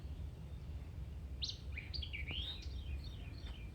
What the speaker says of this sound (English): these birds are just singing up something, ain't it?